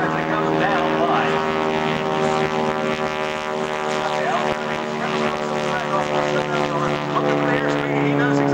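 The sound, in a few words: SNJ T-6 aircraft propeller engine during airshow aerobatics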